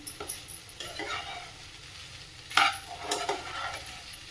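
Vegetable pulao being stirred on a flat tava, with intermittent scraping strokes of a spatula over a soft continuous sizzle, close by, with a couple of sharper scrapes near the middle.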